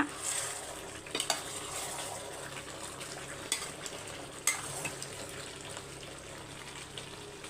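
Chettinad country chicken frying in a pot and being stirred: a soft, steady sizzle broken by occasional sharp clinks and scrapes of the spoon against the metal.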